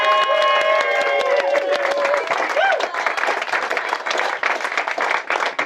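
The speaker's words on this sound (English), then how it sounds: "So can we give Tara a round of applause?" Wedding guests at a speech reception break into clapping and cheering. Close, lively applause rises over a sustained musical tone and a few voices, growing denser toward the end.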